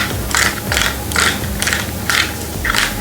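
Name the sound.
removing 4mm Allen bolts from an e-bike handlebar bracket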